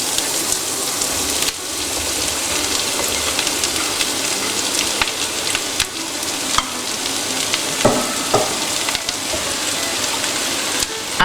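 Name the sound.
onion and parsley frying in a pan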